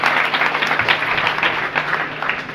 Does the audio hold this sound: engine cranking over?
no